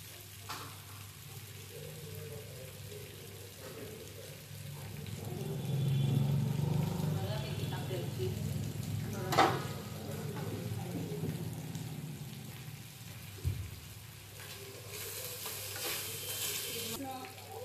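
Cheese being stirred into pasta in a pan over lowered flame, with a faint steady sizzle, scraping stirring strokes and occasional clinks of a utensil, close and soft throughout.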